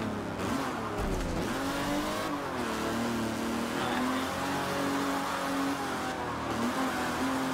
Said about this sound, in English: I've noticed as well the cars sound different. Each car sounds really different.